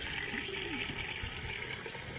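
Water poured onto sand outdoors as a black hole model, a steady close gushing and splashing stream that runs continuously for a couple of seconds without a break.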